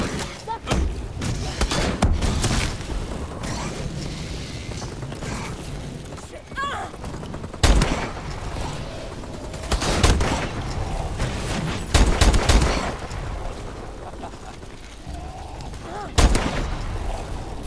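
Sentry gun turret firing in Call of Duty: Advanced Warfare Exo Zombies, heard as repeated sharp bursts of gunfire spaced every few seconds over a steady din of game noise and mechanical clatter.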